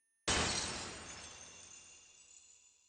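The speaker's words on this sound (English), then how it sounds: "a sound like shattering glass traveled from my ears to the rest of my body" In the game Chaos Child, a single sudden crash of shattering glass bursts out loud and bright, then rings and fades slowly over a couple of seconds with no voices.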